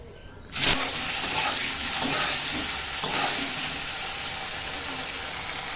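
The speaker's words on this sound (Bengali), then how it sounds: "এখন এই তেলের মধ্যে পনিরগুলোকে ভেজে নেব" Paneer cubes dropping into hot oil set off a sudden loud, dense sizzle that holds steady and close, with a few faint stirring knocks under the hiss.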